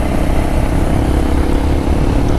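Motorcycle cruising along a freshly built, very smooth road in Etawah district, India, a steady close engine drone with wind rush that holds even and unbroken throughout, no talking.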